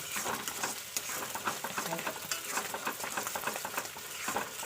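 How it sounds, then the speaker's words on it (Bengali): Dal is stirred steadily in a pot, a dense, continuous scraping and bubbling patter with a sizzling edge, close by and even in level throughout, with no speech. "ডালটা ঘুরছি তো"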